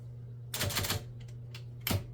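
A 1965 IBM Selectric typewriter carriage shifting across to a set tab stop: two brief bursts of mechanical clatter with a whirring rattle, close and fairly loud over a steady low electric motor hum, no voices.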